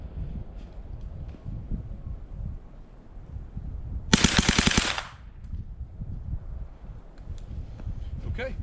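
A MAT9 9mm AR-style rifle fires a short rapid string of shots in binary mode, loud and close, the burst lasting under a second amid outdoor background noise.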